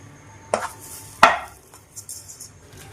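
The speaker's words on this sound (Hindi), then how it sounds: "तो इसे हम बराबर करके इस तरह से फैला देते हैं।" A spoon knocks against a ghee-greased glass dish while wheat-flour shakkarpara mixture is spread in it, giving two distinct clinks followed by softer scraping taps in a quiet kitchen.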